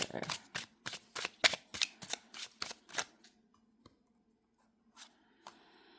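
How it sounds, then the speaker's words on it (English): Rapid riffle-shuffling of tarot cards, a quick run of about a dozen crisp flutters, then near silence with a couple of faint card taps. "These are the ones we're going to live shuffle right in front of your face."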